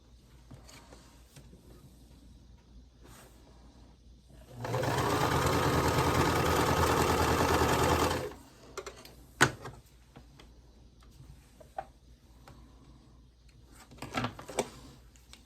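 A sewing machine runs in one steady burst for a few seconds, a rapid mechanical whir, then scattered quiet clicks and handling noises follow.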